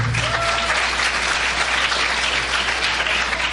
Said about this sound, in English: This team, round of applause.